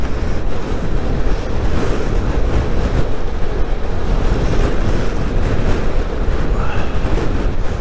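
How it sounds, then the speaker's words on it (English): Loud, continuous wind roar buffeting the microphone while riding a Royal Alloy GP scooter at about 40 mph, a dense rushing noise that never lets up. "It's very windy today"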